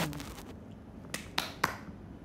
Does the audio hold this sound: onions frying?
no